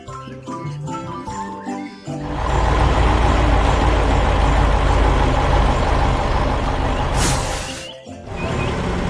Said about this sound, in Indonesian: Sekarang giliran truk kuning dan biru melewati persimpangan.